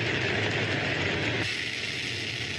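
Rocket engine roaring at launch, a loud, continuous broadband rumble that holds steady throughout with no voices.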